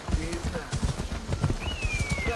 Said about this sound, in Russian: Где моя лошадь? Да не медведь, а лошадь мне нужна.